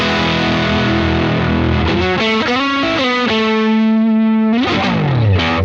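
Electric guitar on its neck pickup through a JHS Fumble fuzz pedal, a thick distorted riff of sustained, chewy notes with slides, shifting pitch and a final long held tone that bends down.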